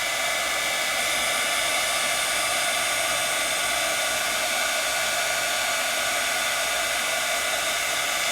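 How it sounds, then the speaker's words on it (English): Heat embossing tool blowing hot air to emboss cardstock in a craft session, a steady loud broadband whoosh that runs unbroken and alone throughout. "And as I see it turn, I know to move my heat tool."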